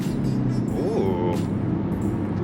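A 2024 BMW X1 M35i SUV pulls hard in second gear on a rainy day, its engine note rising steadily and loudly from inside the cabin amid continuous road and rain noise.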